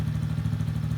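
A Venom 50cc Mini Classic FatBoy Chopper engine runs at a steady idle, a close, loud, rapid low putter with a regular throbbing rhythm and no talk.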